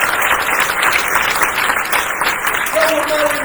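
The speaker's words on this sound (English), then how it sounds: "let's give them another round of applause," Audience applauding graduates at a university graduation ceremony, a loud, steady wash of clapping that fills the whole stretch, with a voice briefly heard near the end.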